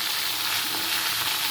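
Snake gourd curry with salt and turmeric sizzles steadily in a hot pan as it is stirred, a close, continuous frying hiss with faint scraping underneath.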